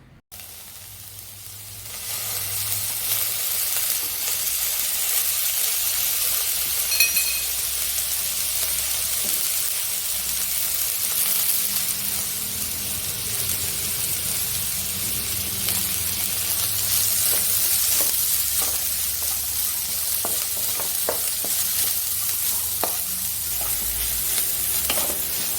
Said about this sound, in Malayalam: നമുക്കിനി ഇതെല്ലാം ഒന്ന് നന്നായിട്ട് മൂപ്പിച്ചെടുക്കാം.